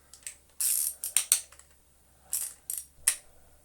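Close, crisp ratcheting clicks from a socket wrench tightening a fastener on a 1920 P A Geier Royal machine, coming in two quick bursts of rapid clicks with a short pause between.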